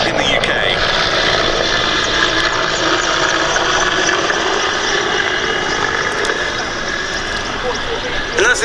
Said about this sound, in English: And now this is the last of those Czech Hind demonstrations in the UK.